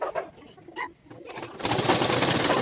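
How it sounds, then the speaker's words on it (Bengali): A sewing machine joins two saris, whirring into a fast continuous run after a few short starts and pauses, close by with no talking. "দুটো শাড়ি একসঙ্গে জয়েন করে আমি সেলাই করে নিচ্ছি।"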